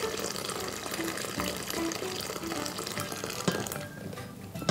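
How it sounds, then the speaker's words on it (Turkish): Bone broth for babies being poured from a pot of large bones in a home kitchen, a continuous close liquid splashing and trickling with faint clatter, no talk. "Önce biraz suyu dökmek istiyorum."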